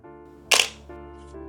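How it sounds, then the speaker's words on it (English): A Nikon D800E fires once: a single loud, sharp shutter and mirror clack, close and alone over a faint steady electrical hum. "Still like that old sound of the shutter, the mirror"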